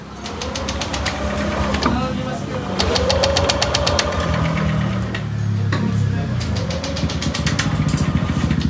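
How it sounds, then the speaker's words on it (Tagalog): A motorcycle engine with a push-button starter that will not fire cranks over again and again in a repair shop, loud and close, a rapid mechanical whirring in bursts with brief pauses, and people talk over it. "kahit na i-push button natin, hindi siya andar, magre-redondo lang siya"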